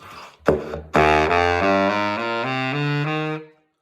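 A saxophone plays a major scale, a sustained run of connected reedy notes stepping upward in pitch, loud and close, after a couple of short attacks.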